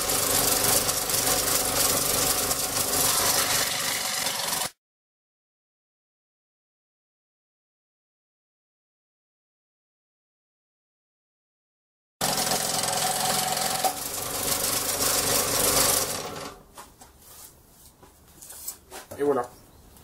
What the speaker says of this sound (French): je vais me servir de ma scie à chantourner